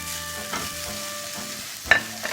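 Rice stir-fried over high heat with tomato sauce and bay leaf for a shrimp pilaf, giving a soft steady sizzle with a few sharp scrapes and clinks from a utensil against the pan.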